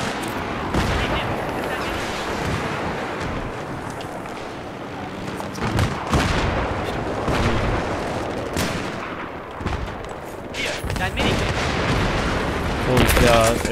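A Viper attack helicopter fires in Battlefield 3 on the Kings Watch map, sharp repeated gunshots and bursts cracking at irregular intervals amid ongoing battle noise.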